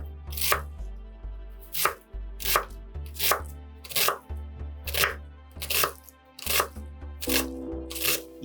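A knife dices half an onion into half-centimetre cubes on a cutting board, about a dozen crisp, evenly spaced chops in a steady rhythm, close and distinct with no talk.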